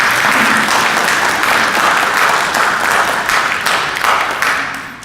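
A church congregation at a Christmas service applauding the musicians, with dense, steady clapping from a full room that fades slightly at the end.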